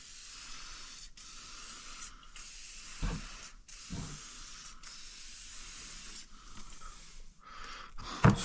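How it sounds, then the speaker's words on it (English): WD-40 is sprayed onto fire-damaged tools in several short hissing bursts of varying length, separated by brief pauses. The spraying sounds close and loud, with a few handling knocks between bursts and no talking. "and spray some WD-40 on them."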